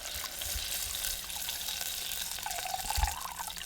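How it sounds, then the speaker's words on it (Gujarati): Water is poured into cooking gathiya curry masala, a steady running splash with a gurgling liquid tone that continues through the whole stretch. "આપણે પાણી નાખી દઈએ"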